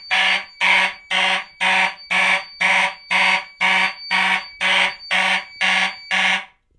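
A fire alarm sounder on a fire alarm panel under system test, blaring a loud, steady repeating pattern of about a dozen evenly spaced tonal pulses, alone with no talk.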